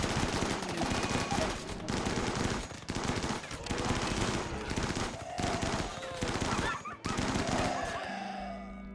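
Automated turret gunfire in RimWorld, rapid sustained bursts of machine-gun fire repeating for several seconds with brief pauses between volleys, loud and dense, then cutting off abruptly at the end.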